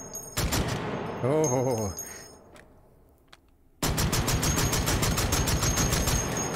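In the video game H3VR an H&K CAWS shotgun fires, with a burst of loud shots near the start, a brief exclamation, then a sustained rapid string of blasts near and loud.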